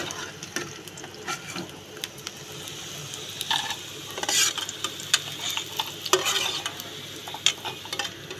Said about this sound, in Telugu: కొంచెం బ్రౌన్ కలర్ అయ్యేలాగా మంచిగా వేపుకోవాలి వంకాయని